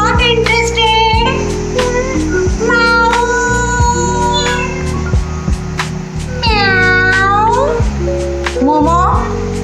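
A pet cat meows repeatedly, several clear rising and falling calls spread through the stretch, close and loud, with a person talking around and between the meows.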